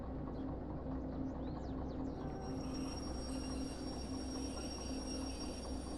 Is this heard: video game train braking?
yes